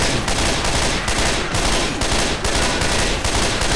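Dense, continuous automatic gunfire from a Left 4 Dead 2 teammate's weapon, loud and close, with sharp repeated bursts spaced under a second apart and no talking.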